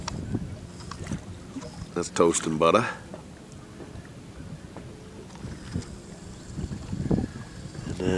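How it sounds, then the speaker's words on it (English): A boat passes on a river, its engine and water wash rumbling low under wind buffeting on the microphone, while people talk nearby. "Here comes the next boat."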